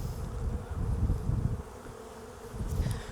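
Honey bees buzzing over a hive frame during a swarm-prevention inspection, a close, dense, continuous hum that swells and dips slightly, with no voices.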